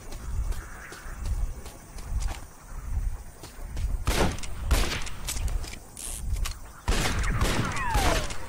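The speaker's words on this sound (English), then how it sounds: "Just shoot the lever on the side of the cage." Gunshots fired at a cage lever in Red Dead Revolver crack in a rapid, uneven series over a busy game background, building to a louder cluster of sharp reports and a sudden clanking burst near the end.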